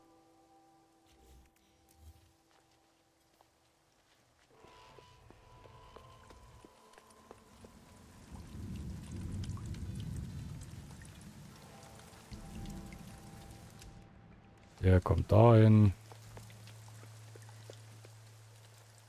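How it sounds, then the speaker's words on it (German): Rain patters indoors inside a building in No Man's Sky, a steady moderate shower of drops on surfaces that swells through the middle, with a brief louder burst of game sound near the end and a short spoken line. "Ernsthaft, es regnet im Gebäude."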